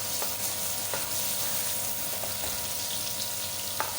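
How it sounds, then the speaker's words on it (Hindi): Garlic sizzles and fries steadily in hot oil in a pan for a chicken curry, a continuous close crackle with a few sharper pops and no talk. "सबसे पहले मैं ऑयल में लहसुन ऐड करूँगी।"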